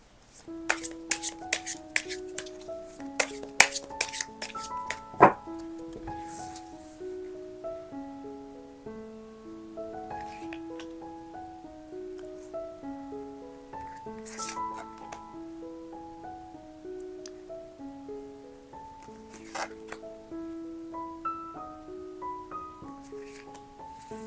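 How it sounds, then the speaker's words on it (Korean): Tarot cards being shuffled by hand: crisp riffling and tapping bursts cluster in the opening seconds, then thin out to occasional soft clicks over a gentle melodic music bed. "그럼 카드 섞어볼게요"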